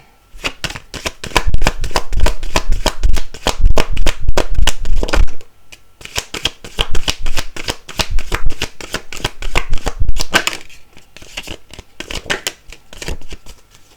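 Tarot cards are shuffled by hand in quick, loud riffling bursts, close to the listener. Two brief pauses break the run of crisp card flutters.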